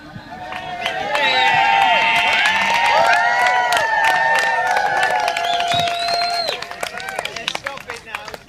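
A wedding crowd cheers and claps in a loud burst that swells quickly, holds with mixed whoops and applause, then fades into scattered clapping and chatter toward the end.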